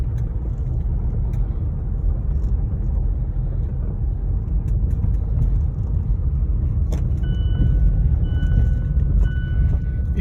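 A car pulls away and drives off past a lifted gate, a steady low engine and road rumble filling the scene at moderate distance, with faint clinks and no talking.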